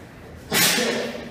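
A single sudden, close sneeze bursts out sharply after a quiet moment, then trails off in a breathy hiss, with no talking around it.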